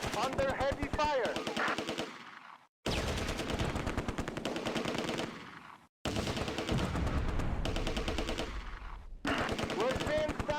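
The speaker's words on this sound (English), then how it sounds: "Under heavy fire!" Heavy, sustained machine-gun bursts and rifle fire from the Close Combat: A Bridge Too Far wartime strategy game crackle loudly in long volleys, broken by two brief silent gaps, with no talk over them.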